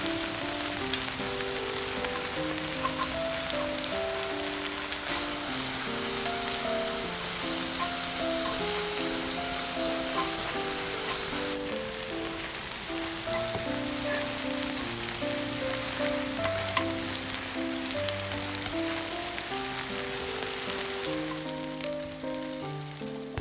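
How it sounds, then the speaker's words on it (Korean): Beef and onions sizzle in a hot pan during stir-frying for potato croquette filling, a steady close crackle and hiss running alone throughout, with quiet music underneath. "이제 밑간한 소고기를 같이 볶아주세요."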